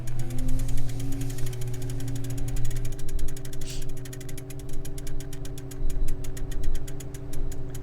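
In the Riven game, a cranked machine starts up with a rhythmic mechanical clatter, ratcheting gear clicks and a droning hum that climb in pitch and repeat in fast, even pulses, loud and close.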